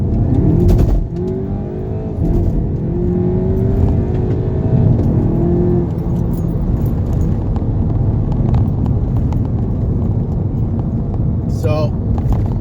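A Seat Leon Cupra ST 280 estate accelerating hard in Cupra mode, a loud steady engine roar rising through the gears from inside the cabin, with a brief shift break early on.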